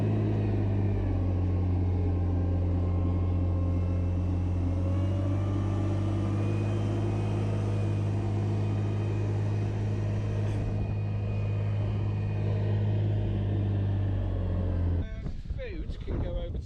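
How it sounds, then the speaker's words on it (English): Dump truck hauling bags uphill on Skokholm Island, a low, steady engine drone that holds for most of the stretch before cutting off near the end, followed by rustling, with some talk underneath. "This is made somewhat easier with a dump truck taking your bags."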